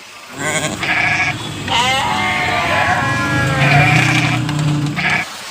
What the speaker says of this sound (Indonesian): kambing gunung, teman-teman